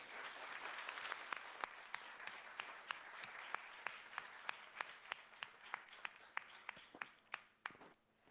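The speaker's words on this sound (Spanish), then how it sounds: "Les pido un fuerte aplauso, por favor." Auditorium audience clapping at a book presentation on gender studies, a thinning round of applause that fades into scattered individual claps, fairly quiet and distant.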